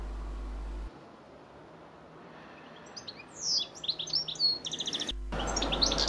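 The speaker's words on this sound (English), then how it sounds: "Just listen to that goldfinch up above me." A goldfinch sings overhead on a summer day in Cornwall, a run of quick, bright twittering chirps and trills that come in bursts over soft background hiss, moderately close and clear.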